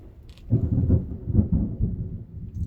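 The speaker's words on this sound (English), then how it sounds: "it is lightning and thundering something fierce outside" A deep, low rumble of thunder during a lightning storm rolls in and lingers for a couple of seconds, heavy and muffled from outside, with no speech.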